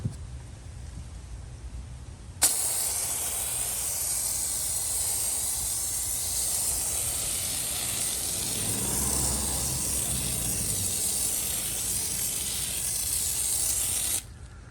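An IK foam sprayer discharging foam onto a surface in one long, loud, continuous hiss that starts abruptly and holds steady for about twelve seconds before cutting off, close by with no talking.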